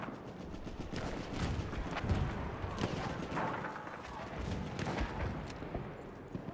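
Enemy machine gun fire in a Battlefield 1 operations match: dense, continuous crackling bursts with scattered louder shots and rumbling battle noise throughout, loud and close, partly under speech.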